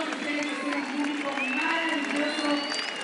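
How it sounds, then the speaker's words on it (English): Roadside crowds at a cycling stage race in San Juan, a steady wash of cheering and clapping with a commentator talking over it throughout. "I'm really impressed with the crowds."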